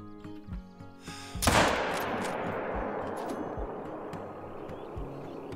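A single loud lever-action rifle shot rings out at a trotting animal in the hunting game Call of the Wild, a sharp crack followed by a long rolling echo that fades slowly across open terrain.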